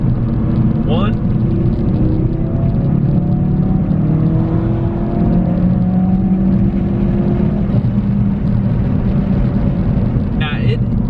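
A Stage 2 Ford Focus RS accelerates hard from around 3,500 RPM, its engine note loud and close, climbing steadily in pitch through a sustained wide-open pull with a brief shift-like break near the end.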